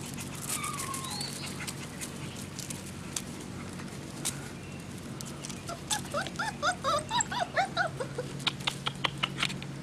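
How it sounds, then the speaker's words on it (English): Five-week-old puppies in a litter yip and whimper in a quick series of small high cries in the latter half, over soft background noise and scattered patter. "Puppies."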